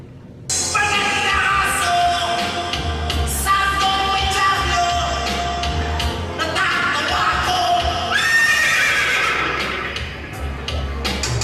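A voice imitating a horse neighs loudly and close in repeated whinnying bursts with a pitch that rises and falls, nearly continuous across the stretch.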